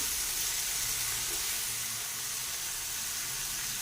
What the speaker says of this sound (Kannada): ಇದು ಟೊಮೆಟೊ ಚೆನ್ನಾಗಿ ಸ್ಮ್ಯಾಶ್ ಆಗೋವರೆಗೂ ನಾವು ಫ್ರೈ ಮಾಡ್ಕೋಬೇಕಾಗತ್ತೆ